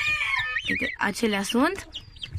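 Guinea fowl and chickens calling in a backyard poultry flock, with a few raised, squawking calls mixed in close by while a person talks over them.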